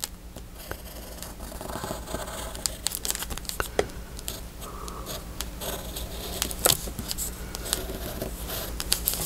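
Scissors snip through paper while cutting out a shape for a handmade booklet, with repeated crisp clips, paper rustling and crinkling close to the microphone, and no talking.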